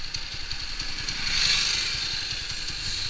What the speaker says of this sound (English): there is a nice hum to the engine